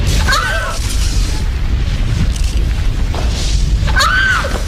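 Loud booming explosions from a TV scene of fireballs falling from the sky, deep rumbling impacts that keep going, with a couple of brief sharp whistling sounds near the start and end.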